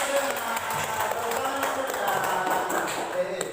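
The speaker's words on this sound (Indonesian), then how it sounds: "Oke, tepuk tangan." A children's class claps together in a classroom, a brief burst of mixed applause with a teacher's voice talking over it.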